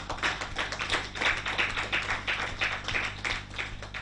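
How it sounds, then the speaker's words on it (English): Applause from an audience at a government house media briefing, a steady dense patter of many hands clapping for about four seconds with no voices over it. "I think it deserves a better round of applause."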